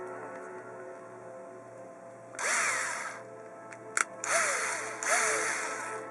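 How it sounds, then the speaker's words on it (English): Three short bursts from a power drill fitted with a 1/8 inch bit, boring into a plastic Xbox One controller shell. The motor whines up and down in each burst, with a sharp click between them and a quiet hum underneath. "1/8 of an inch drill bit here, and I drill."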